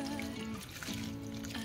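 Water poured into a pan of artichokes and peas, a soft trickle and splash under a steady tonal hum, quiet and close.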